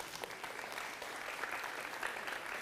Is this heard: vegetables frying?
no